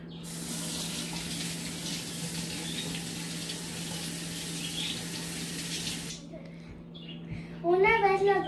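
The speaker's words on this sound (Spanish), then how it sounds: "lo primero que voy a hacer es lavar mis tomates" A kitchen tap runs steadily for about six seconds while tomatoes are washed under it, a close hissing spray over a low hum, then cuts off before a voice speaks.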